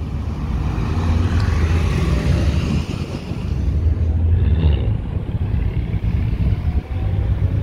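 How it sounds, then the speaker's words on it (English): A Porsche 718 sports car passes the Nürburgring, and its engine swells into a broad rumble of road and exhaust noise before easing off, heard at moderate distance with no speech. "Porsches, Porsches, Porsches. Another 718."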